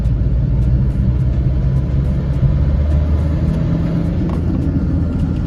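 A 2010 first-generation Maruti Dzire LDI with the 1.3 DDiS diesel engine rumbles deep and loud while driving, a steady low roar under acceleration heard from inside the cabin, with no talk.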